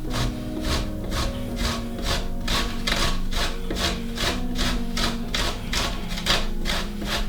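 Food is grated by hand in a home kitchen, making a steady, rhythmic rasping stroke after stroke, loud and close, with no talking.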